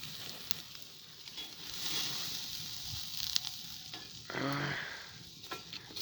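Meat searing on a grill over a campfire gives a crackling, hissing sizzle close by, rising and falling with stirring sounds and a brief louder burst of hiss partway through, with no talking.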